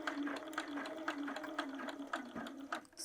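A sewing machine stitches the body of a tote-style town bag around a curve, with steady rapid needle bursts broken by brief pauses and a short back-tack, heard close and alone.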